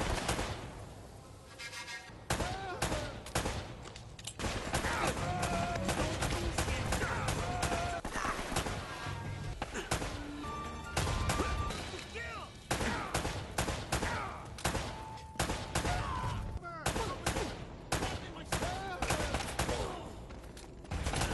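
Gunfire in the action game Uncharted: Drake's Fortune, dense rapid bursts and fusillades of shots, loud and nearly continuous, with brief background voices mixed in.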